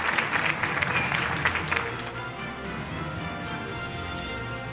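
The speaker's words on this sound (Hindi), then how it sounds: "Huge round of applause for team city eight 10।" Audience at an annual news network award show gives a team a big round of applause, loud dense clapping at first that eases into a steady lighter patter.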